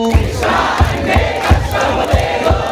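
A crowd at a Hindu devotional gathering in Anantapur claps hands in a steady, regular rhythm, about two claps per second, while chanting together. The sound is loud, close and continuous throughout.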